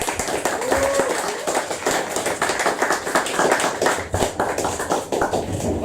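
Audience applause for poet Chloe Orrock at a modern poetry reading, steady clapping from a seated crowd under a murmur of voices, continuous for several seconds.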